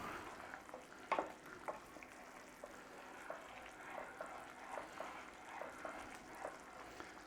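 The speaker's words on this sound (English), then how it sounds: "Keep giving it a stir because we don't want to burn it, till it thickens to how you like" Blue cheese sauce being stirred in a pan on the hob, with a soft, faint sizzle and scattered quiet scrapes and clicks of the utensil against the pan.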